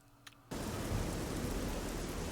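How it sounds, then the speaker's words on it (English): In the video game Oblivion, heavy rain comes in abruptly after a brief near-silence, then continues as a loud, dense, unbroken hiss. "Oh, God, that rain is loud."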